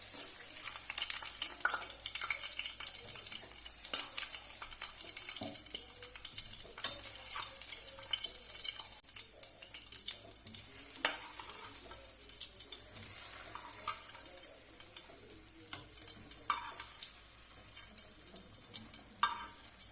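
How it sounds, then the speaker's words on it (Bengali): Veg Manchurian gravy in a pan gives a steady frying hiss and bubbling for the whole stretch. Occasional clinks and stirring sounds break through at moderate level, and there is no talking. "মাঞ্চুরিয়ানগুলো আমি সব গ্রেভিতে দিয়ে দিয়েছি, দেখুন ফুটছে"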